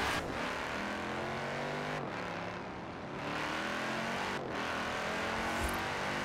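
Race cars in the video game Forza Horizon 4 pull away together, engines revving and rising through gear changes in a loud, close, continuous roar with brief dips between shifts.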